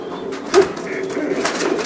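White racer pigeons of Johnson bloodline coo at a large racing-pigeon farm, a short low murmur with one louder coo near the middle, heard close amid faint background chatter.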